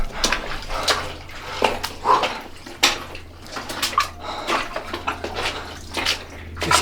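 Water trickles and splashes in a forgotten tunnel beneath a city during a drought, with uneven close drips and small splashes echoing, and no voices.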